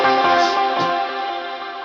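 A lead guitar line played with effects, a sustained chiming chord with reverb and echo that slowly decays, close and loud, no voices.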